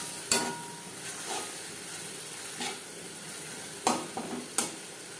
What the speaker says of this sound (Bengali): পেঁয়াজের সাথে মাছের তেল বেশ ভালো করে মিক্স করে দেবো।